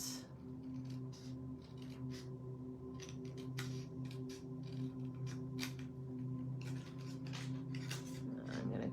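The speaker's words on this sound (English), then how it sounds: "Where'd my scissors go? Here they are. So I'm just gonna cut" Scissors snip through paper during paper crafting, producing a run of short, crisp cuts close by over a steady low hum.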